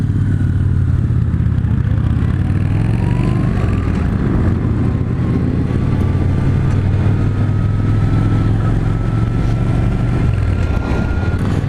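A steady, loud rush of wind and road noise fills a test ride on a 2016 Victory Empulse TT electric motorcycle, with a faint motor whine that slowly rises in pitch.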